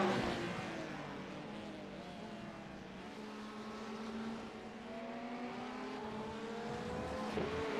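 Several racing cars circulate on the Barcelona circuit during a two-hour endurance race in a sim racing game, including GTE Pro cars and a Ferrari. Their engines drone steadily, with rising and falling pitch as they accelerate, at a constant level.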